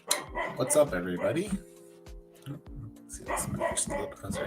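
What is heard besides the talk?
dog barking in the background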